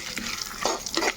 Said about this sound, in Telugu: కొంచెం కరివేపాకు కూడా వేసుకున్నాము.